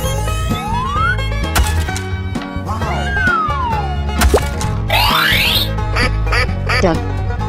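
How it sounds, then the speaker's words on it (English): A cartoon duck quacks in a guessing-game challenge, the quacks loud and clear over busy music and goofy sound effects, with boings and swooping tones around them. "Duck."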